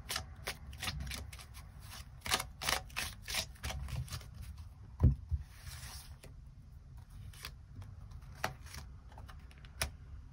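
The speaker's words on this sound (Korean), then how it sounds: "추가 카드 뽑아보도록 하겠습니다" Tarot cards shuffled and drawn by hand, a steady run of crisp riffling flicks and soft slaps with one sharper snap partway through, close and fairly quiet with no talking.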